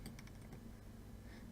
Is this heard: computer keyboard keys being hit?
yes